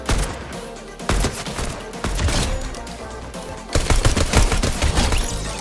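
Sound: gun firing with recoil in the video game Fortnite

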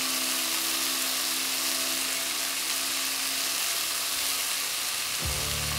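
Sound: onions and mushrooms sautéing in olive oil

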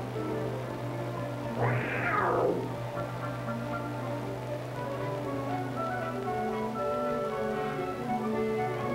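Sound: young cougars vocalizing in a boat

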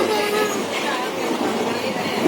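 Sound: moving train

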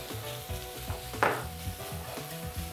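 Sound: onions added to hot pan, sizzling with dried onion and shrimp

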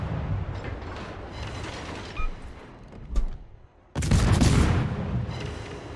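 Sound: ship gunfire in naval video game World of Warships

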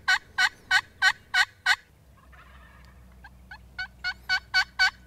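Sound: wild turkeys gobbling in answer to a call

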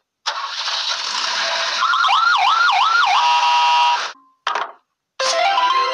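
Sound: police car siren

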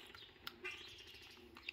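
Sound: birds chirping outdoors

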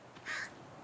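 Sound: bird (crow) cawing in the video game The Forest

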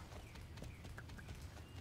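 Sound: horse hooves in video game

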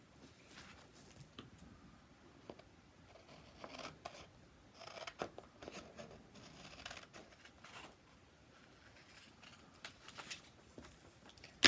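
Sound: scissors cutting out a paper square

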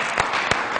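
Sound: audience applause

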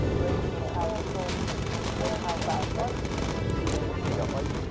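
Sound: gunfire hitting bomber in video game Bomber Crew

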